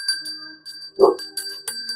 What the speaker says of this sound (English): I'm just going to ring the bell.